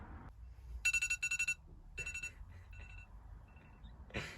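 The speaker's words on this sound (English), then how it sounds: "That's the timer." A cooking timer in a campervan kitchen goes off with rapid bursts of bright, shrill beeping in several quick groups, then fainter repeated beeps, over quiet background noise.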